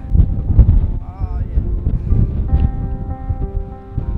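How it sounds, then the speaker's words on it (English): Strong coastal wind buffets the microphone beside a lighthouse at Hirtshals, North Jutland, Denmark, a loud low rumble throughout with a faint tonal hum and brief speech-like sounds. "it's really windy still here."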